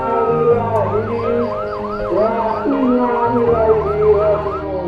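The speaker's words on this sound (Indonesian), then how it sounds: "Raungan sirine ambulans pengantar jenazah COVID-19 semakin sering terdengar" A wailing ambulance siren on a COVID-19 hearse rises and falls repeatedly, loud and fairly near, over a low road rumble as the vehicle passes.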